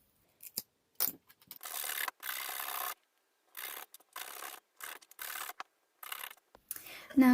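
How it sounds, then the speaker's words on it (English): Sandpaper rubbing the edges of small wooden craft sticks for a miniature rustic farmhouse decoration, in repeated short rasping strokes with brief pauses between them, close and fairly loud, with no voice. "And then I'll sand the edges off once I'm done."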